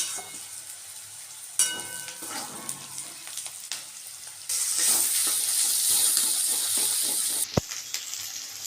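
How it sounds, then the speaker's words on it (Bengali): An egg and boiled pasta fry in a pan with a steady sizzle that swells loud midway, broken by a few utensil scrapes and a sharp clink near the end. "এরপর আমি একটা ডিম দেবো আর সেদ্ধ পাস্তাটা অ্যাড করে দেবো"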